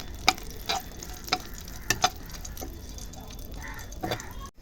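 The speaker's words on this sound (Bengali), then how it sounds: "কিছু শুকনো লঙ্কা ভেজে নেব।" Dried red chillies fry in hot oil with a steady, close sizzle, punctuated by light clicking stir strokes throughout.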